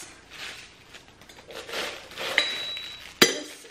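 A small teapot for loose leaf tea gets handled, giving soft rustles and shuffling, a short bright ringing clink partway through, and then a sharper hard clack near the end, all close and fairly quiet.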